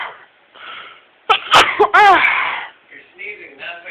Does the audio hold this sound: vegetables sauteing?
no